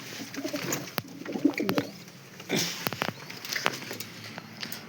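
Pigeons coo in soft, repeated throaty bursts nearby, with a few light clicks and rustles between the calls.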